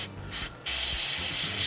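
Airbrush spray of a thinned Tamiya paint mix over the fuselage sides of a 1/48 Aichi Seiran floatplane model, loud steady hissing bursts with short gaps, close up and without talk.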